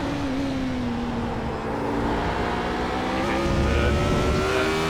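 A Radical SR8 race car in a racing sim at Road America, held at full throttle: a loud, steady engine drone climbing gradually in pitch with no gear breaks, alone without voices.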